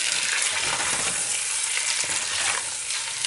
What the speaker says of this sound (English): And I'm just going to cook these until they become brown and also get rid of that flour taste